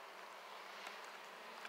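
Honeybees buzz steadily and close up during a hive inspection, a dense continuous drone with no voices.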